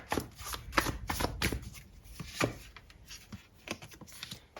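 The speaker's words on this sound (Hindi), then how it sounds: "मैं कुछ कार्ड और निकाल के देख लेती हूँ" Tarot cards are shuffled and drawn by hand, a quiet close run of riffling and sliding card flicks in an uneven rhythm with no talking.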